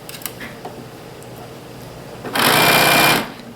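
A sewing machine starts up and runs in a loud, steady whir for about a second, preceded by quiet rustling and small clicks.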